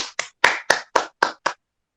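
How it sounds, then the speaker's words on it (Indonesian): Seven sharp hand claps in a quick, slightly uneven burst, close and crisp with clear gaps between them, applauding a participant during an online prayer fellowship gathering, then silence. "Tepuk tangan dong buat Iren."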